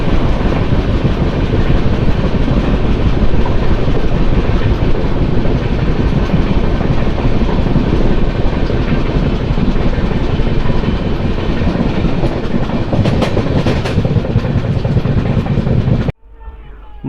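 The Janmabhoomi Superfast Express 12806, running from Lingampalli to Visakhapatnam, rolls along at speed with a loud, continuous rumble and rhythmic clickety-clack of wheels on rail joints, cutting off abruptly near the end.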